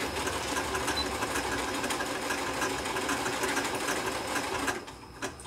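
Janome sewing machine stitching ribbon with variegated thread, a steady rapid mechanical whir and needle chatter running close and continuously before it stops near the end, with no talking.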